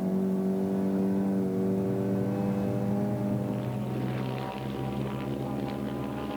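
Bedford super truck racing around Manfield circuit, its engine droning loud and steady with strong harmonic tones, pitch shifting slightly as it powers down the back straight, with no talk over it.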